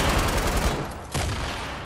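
Gunfire in the video game Fortnite: a dense burst of rapid in-game shots crackles near and loud through the first half, followed by a sharp single report, with no talk over it.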